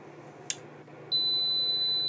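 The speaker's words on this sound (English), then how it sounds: "There we go, we have a master alarm." A master alarm on a physical Kerbal Space Program display warns of low fuel: after a single sharp click, a steady high electronic tone switches on and holds loudly.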